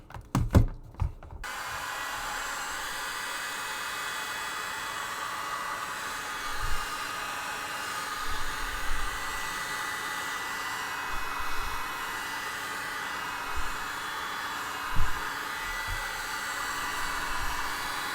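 A heat gun or hot-air tool blows in a steady, close-up broadband hiss while sealing the sanded foam surface of a LARP kukri, with a few soft knocks and handling bumps scattered throughout.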